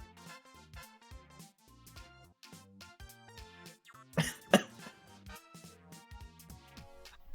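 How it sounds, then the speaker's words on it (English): A single sharp cough bursts out briefly midway through, over soft, steady melodic background music from a visual novel game. "I'm sorry for the cough."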